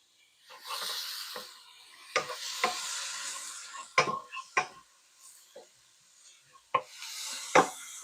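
Chopped onions sizzle and hiss in a dry pan for Mexican lasagna, with sharp clicks and scrapes of a utensil breaking up the frying in uneven bursts, fairly close.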